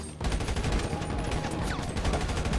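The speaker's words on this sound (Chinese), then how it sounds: "你听到好多枪声" Rapid bursts of gunfire crackle through a shootout in the video game GTA Online, a loud, dense fusillade of overlapping shots with no speech.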